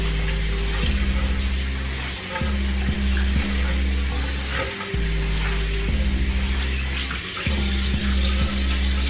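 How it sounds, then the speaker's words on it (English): Soapy, softener-laden water draining from a sink after washing durags, a loud continuous close gurgling rush with rhythmic pulsing glugs throughout. "we're draining the rest of the soap and the softener out of the Durags"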